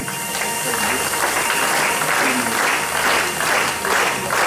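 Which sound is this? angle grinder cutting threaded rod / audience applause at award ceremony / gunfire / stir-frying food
audience applause at award ceremony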